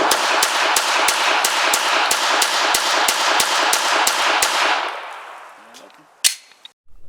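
A rapid string of sharp gunshots from a Glock 19X pistol at a shooting range, about a dozen evenly spaced shots over a steady roar, then a quieter tail with one last loud crack.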